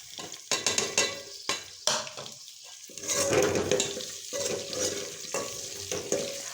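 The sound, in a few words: potatoes frying and being stirred in a pan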